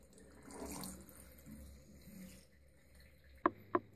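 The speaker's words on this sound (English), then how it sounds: "Let's drain the water." Water gurgles and drains from an ultrasonic cleaner with a soft rushing flow, followed by a few sharp clicks or knocks near the end.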